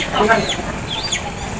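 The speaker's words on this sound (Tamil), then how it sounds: "எங்கள் கோழி குஞ்சோல் எல்லாம் இருக்குது" Chickens cluck continuously against a dense, noisy outdoor background, fairly close, with a few sharper calls rising above the chatter.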